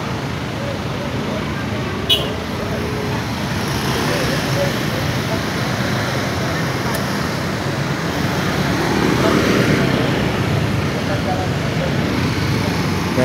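Saturday-night road traffic crawls in a jam, heard from inside a vehicle as a steady, broad rumble of engines and tires that swells slightly toward the end, with voices talking over it.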